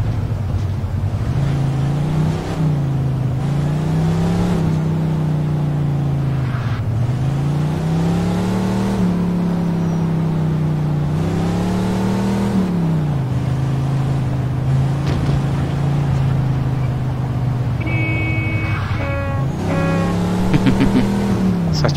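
A car in the video game Mafia 2 drives on slippery roads, its engine droning steadily and loudly throughout, rising and falling in pitch with repeated revving and easing off, and a few brief higher beeps near the end.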